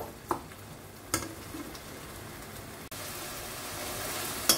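Spices for a pork curry being sautéed in a pan: a low, steady frying hiss with a few sharp stirring clicks and scrapes, close by and without any talk.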